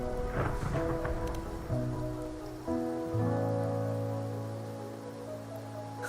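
Rain falls steadily in the Wuthering Waves video game, a soft continuous patter beneath sustained, layered musical tones that swell in and hold throughout.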